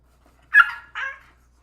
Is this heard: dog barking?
yes